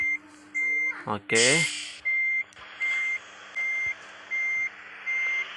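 A reversing bus in Bus Simulator Indonesia gives off steady, evenly spaced beeps that repeat several times, with a brief horn-like blare and a short spoken word near the start.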